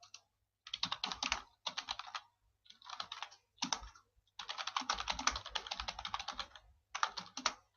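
Bursts of rapid clicking keystrokes on a computer keyboard, typed in uneven runs separated by short pauses, close and fairly crisp.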